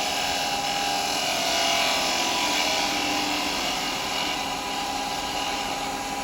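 A woodturning lathe flattens the face of a wooden yo-yo, giving a steady, loud whirring hiss of the tool cutting spinning wood that holds unbroken throughout.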